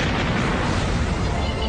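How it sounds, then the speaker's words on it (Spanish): A deep, roaring blast from a test explosion of an aircraft fuel tank fills the whole stretch, loud and broadband, with no separate bursts and no voices. "¿Es posible que la explosión de un tanque de combustible derribe a un avión?"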